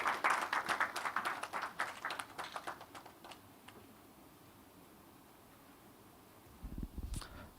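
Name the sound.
audience applause welcoming the workshop chairman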